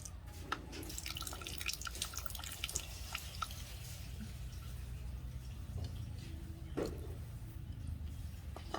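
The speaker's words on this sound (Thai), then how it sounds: "จากนั้นเราก็ใส่น้ำมะนาวลงไปนะครับ" Lime juice drips and trickles into chili shrimp-paste dip, making a soft close patter of droplets with a few small splashes over a low background hum and no speech.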